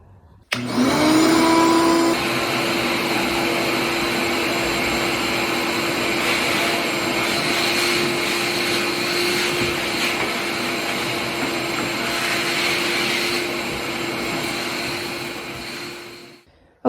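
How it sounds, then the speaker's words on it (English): A vacuum cleaner switches on abruptly and runs loud and steady with a high whine, cleaning up sanding dust in a shipping container tiny home, its roar shifting slightly as it moves, then cuts off. "Now I just got to vacuum everything up and move on to paint."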